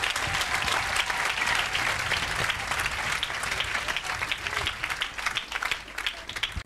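A church congregation at an evangelical service applauds loudly and steadily, dense clapping from many hands with voices mixed in, tapering slightly toward the end.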